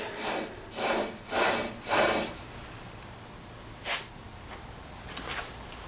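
A tool scrapes old grease and gunk off a spinning 1944 Delta wood lathe in four rhythmic rasping strokes, followed by quieter scattered scrapes and light mechanical ticks.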